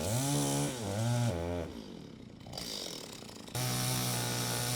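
A chainsaw cuts through a walnut log while urban logging, its engine droning loud and steady, then dropping to a rougher lower cut before surging back to full power.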